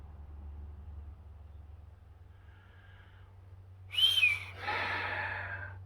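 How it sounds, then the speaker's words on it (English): A single loud, shrill whistle blasts out after a quiet stretch of low hum, followed by a breathy rush of noise, with no talking. "Didn't expect that whistle to be quite so loud."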